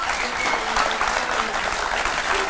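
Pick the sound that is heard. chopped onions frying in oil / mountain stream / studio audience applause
studio audience applause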